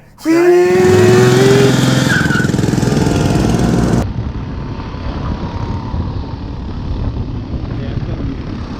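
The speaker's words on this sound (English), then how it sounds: "Thad had to get his burnout in. So he put his bike up on his kicks or his center stand" Motorcycle doing a burnout while raised on its center stand at night, a loud engine revving up and holding a high roar, then dropping to a rougher steady drone, with people talking faintly.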